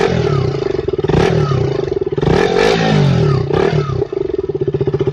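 A 2018 Royal Enfield Himalayan motorcycle engine, loud and close, with a steady thumping idle broken by a few sharp revs that rise and fall, one dip near the end.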